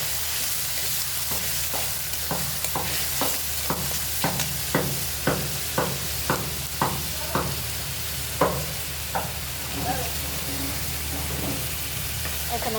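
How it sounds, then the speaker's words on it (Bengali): Onion and garlic frying in hot oil in a wok, a steady sizzle under repeated sharp scraping strokes of stirring, roughly one every half second, close and moderately loud. "পেঁয়াজটা ভাজা ভাজা করে নিই।"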